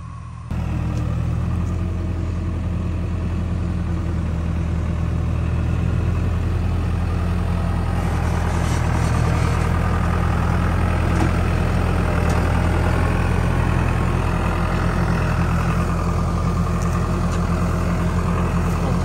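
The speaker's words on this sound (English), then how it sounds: "Boss man's bringing the tractor" Tractor engine idling on a cattle property, a steady low diesel drone running continuously at moderate volume with no talk.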